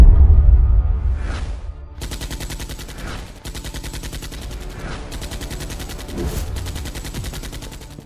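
Gunfire sound effects in a Hindi animated detective story: a heavy blast, then rapid bursts of loud repeated shots that rattle on for several seconds, with whooshing bits between them.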